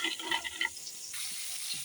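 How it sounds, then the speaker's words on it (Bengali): Paneer frying in a pan for a sweet milk dish makes a steady, soft sizzle with a faint clink of stirring early on. The frying is fairly quiet and heard alone. "এখানে পনিরটা ভাজা হচ্ছে"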